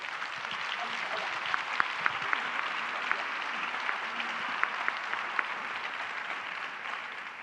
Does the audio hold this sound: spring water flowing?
no